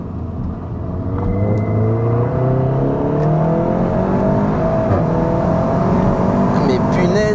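A Seat Leon Cupra 300 on a race circuit, running on deflated tyres, with a loud steady engine drone and rising harmonic whine as it accelerates, continuous and close throughout.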